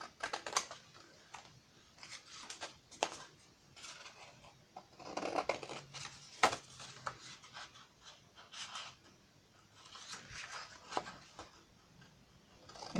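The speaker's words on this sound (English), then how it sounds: "cut out those corners again. Corner cutting." Scissors cut the corners off the paper pieces of a handmade explosion box, quiet irregular snips and paper rustles heard up close with no talking.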